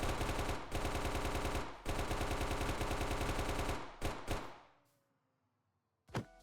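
Silenced, scoped M7 SMG ODST firing in a Halo-style game: long rapid-fire bursts of dense, even shots, three sustained runs, then two short bursts and a decaying tail before a final quick burst.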